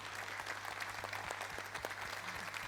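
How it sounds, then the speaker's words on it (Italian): Audience applause for young contestants at a Neapolitan talent show, quiet and somewhat distant clapping with scattered distinct claps over a low steady hum. "venite a prendervi il vostro applauso"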